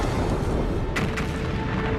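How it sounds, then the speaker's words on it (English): A supernova star explosion rendered as a sound effect: a loud, continuous, deep roaring rumble, with a couple of brief crackling bursts near the middle. No voices are heard. "These explosions, known as supernovas, are the biggest blasts in the universe since the Big Bang"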